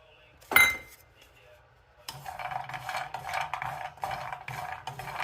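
Cashews and almonds are dry-roasted in a pan with no ghee. A single bright clink comes first, then after a quiet gap a steady, close scraping and rattling of nuts stirred against metal.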